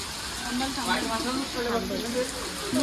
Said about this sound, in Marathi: पाऊस आलाय डेंजर पाऊस